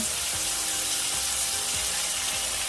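Butter sizzles in a hot pan alongside strip loin steak, a loud, steady hiss with a few faint clicking knocks underneath, no voices.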